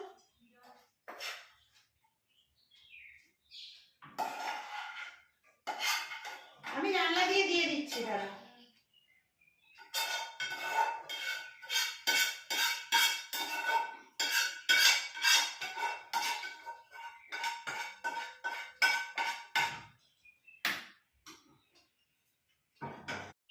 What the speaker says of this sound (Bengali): একটু ফ্রাই প্যানটা নিয়ে যা তো